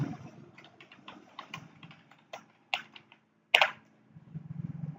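Fingers type on a computer keyboard in bursts of quick, light key clicks, with irregular pauses and one sharper, louder keystroke near the end, close and alone.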